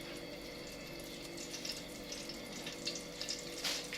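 Cooking oil trickles from a bottle with its cap removed into a pan, a soft steady pour with faint splashy crackles that grow a little louder toward the end, heard close and alone.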